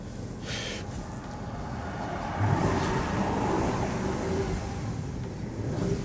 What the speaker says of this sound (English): let's have a little listen to that engine